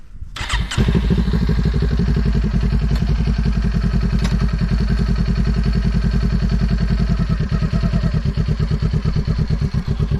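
A motorcycle idling and then moving off at low speed with a steady, close, throbbing engine that pulses evenly throughout, opening with a short clunk before the engine note settles, no voices over it.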